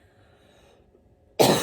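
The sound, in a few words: cough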